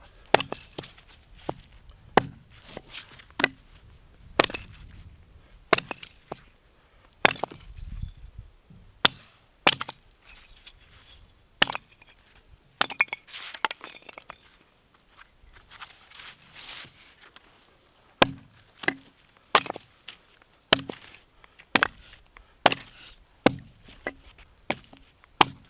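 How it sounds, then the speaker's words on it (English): Cherry wood blocks are split into small pieces at a winter campsite, with sharp, irregularly spaced chopping cracks and splintering knocks, some quiet handling and footsteps between strikes. "I brought some cherry blocks. I'm gonna split these up small"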